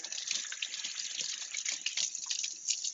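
Tap water runs steadily into a sink while a pastry spatula is rinsed under it, a constant close hiss and splash with small clatters and no speech.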